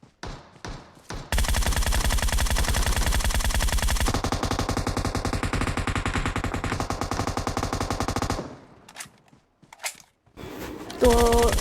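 Rapid automatic gunfire in a battle royale video game, loud sustained bursts of machine-gun fire lasting several seconds, preceded and followed by a few separate shots.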